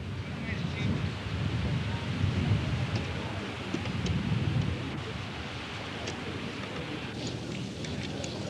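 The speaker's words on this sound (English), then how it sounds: "The trouble was the northwest wind." Strong northwest wind buffeting across the Troon golf course, a steady, fairly quiet roar of gusts and microphone rumble that carries on without a break.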